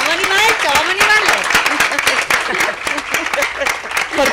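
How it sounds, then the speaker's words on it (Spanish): An audience at a Sierra de Cádiz event applauds the president of a band association, sharp claps close by mixed with lively crowd noise and overlapping voices throughout. "Vamos a dar un aplauso."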